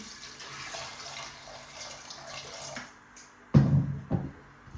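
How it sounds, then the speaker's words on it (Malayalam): Quiet trickling water, then a sudden louder splash and gush of water poured into a pot of vegetables, fading after a couple of seconds. "നമുക്കിതിലേക്ക് വെള്ളം ഒഴിച്ച് കൊടുക്കാം"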